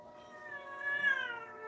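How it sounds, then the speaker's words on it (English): A house cat gives a single drawn-out meow, rising and then falling, close and fairly clear against a quiet room. "here's one cat right now"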